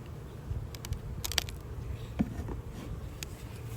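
Honey bees buzzing inside an opened hive during an inspection, a steady low drone with scattered louder buzzes as individual bees pass close, no talking.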